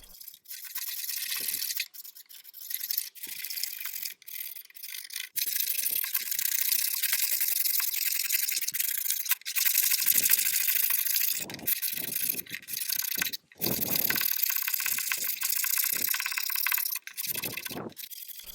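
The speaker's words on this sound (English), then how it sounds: "now I'm scraping it, but even though it's sped up, I was very careful" Old furniture veneer being hand-scraped during restoration, heard as dense, bright, scratchy scraping strokes repeated in quick succession, with brief gaps between passes.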